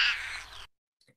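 A European roller gives one short, harsh, crow-like call up close, then falls silent apart from a faint trailing note.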